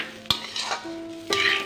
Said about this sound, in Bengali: এবার এগুলো দিয়ে আবারও আমি ভালো করে নাড়িয়ে নিচ্ছি।